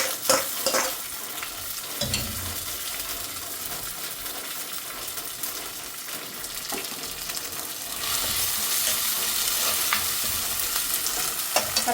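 Tomatoes cooking over fried chopped onions in a pan for a fish curry base. A dense, close hiss of frying with occasional clinks of stirring grows louder and brighter toward the end, with no voices.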